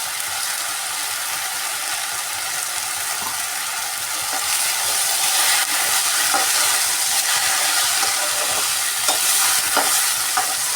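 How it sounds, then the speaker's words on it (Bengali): Shrimp stir-fried in a pan with okra and greens, a continuous close sizzle with steady scraping and clicking of a spatula stirring, growing slightly louder midway. "চিংড়ি মাছটা এর সঙ্গে ভালো করে কষে নেব।"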